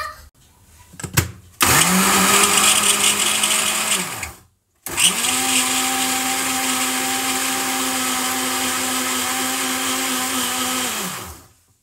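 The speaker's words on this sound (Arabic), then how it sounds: "هنحطهم مع بعض ونضربهم في الخلاط" A kitchen blender whirs loudly as it mixes orange cake batter with vanilla, running for a few seconds, cutting out briefly, then starting again for a longer steady spin before winding down.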